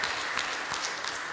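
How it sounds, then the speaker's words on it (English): Congregation at a Sunday morning church worship service applauding children, a dense, steady wash of clapping heard from a short distance for over a second with no talking. "Why don't we give them a great big round of applause and thank them for leading us in worship this morning."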